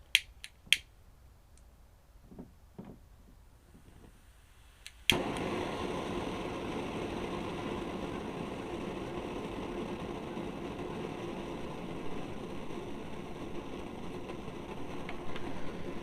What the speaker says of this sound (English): I've got the fuel canister hooked up to the multi-fuel stove